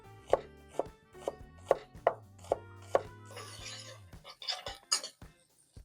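A knife chops raw onion on a board for a burger garnish. About eight crisp, evenly spaced thuds come close and distinct, then a quicker flurry of lighter cuts, with faint music underneath.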